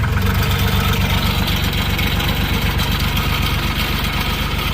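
A skid steer's diesel engine running steadily after a fuel line leak to the injection pump was fixed, a loud close rhythmic idle throb with no talk.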